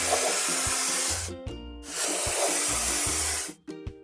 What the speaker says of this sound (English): Let's point the sprayer at the stain and paint it over.